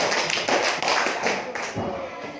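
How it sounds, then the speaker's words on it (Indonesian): A small group of students in a classroom claps in a quick, scattered burst of applause, close and steady, fading slightly toward the end. "Kasih tepuk tangan"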